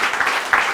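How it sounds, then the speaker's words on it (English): Audience applause at a Virginia governor's economic development announcement, a broad wash of clapping from a crowd, steady and fairly loud through the short burst with no voices over it. "Give them another great round of applause on that."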